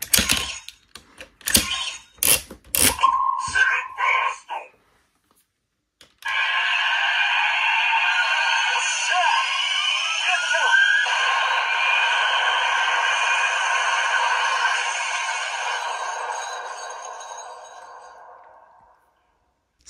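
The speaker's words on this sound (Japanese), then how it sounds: "セリフ付きの必殺技音が鳴るので、まあ、そちらをすべて鳴らしていきたいと思います" Kamen Rider Birth CSM transformation belt toy playing an electronic finishing-move sound with recorded voice lines: a burst of sharp clicks and short tones, then a sustained loud synthetic whirring effect lasting about twelve seconds before fading out.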